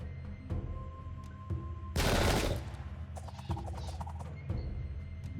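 Musket gunfire in a Sengoku Jidai: Shadow of the Shogun battle at the defence of Nagashino: scattered distant shots, then one loud massed volley crackling for half a second, followed by more sporadic pops.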